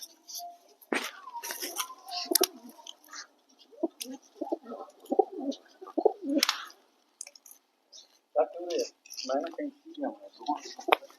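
Pigeons coo and birds chirp in short bursts while people talk nearby, with sharp clatters and flutters breaking in now and then.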